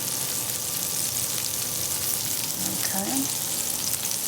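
Shrimp fry in unsalted butter in a pan with a steady, loud sizzle throughout, and a voice speaks briefly near the end.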